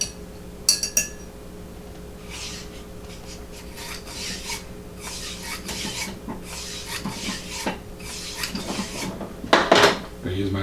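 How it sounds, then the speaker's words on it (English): A .40 caliber bore brush scrubs back and forth through the barrel of an EAA Witness Elite Match pistol, giving repeated raspy strokes with a few metallic clinks while someone talks over it. "40 caliber brush. Scrub it in, scrub it out"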